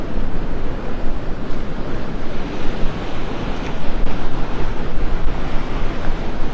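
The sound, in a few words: wind and surf on a beach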